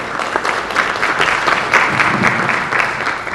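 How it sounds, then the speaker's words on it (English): Conference audience applauding steadily, a dense wash of clapping from many hands that holds at an even level throughout with no voices over it. "Please give her another round of applause."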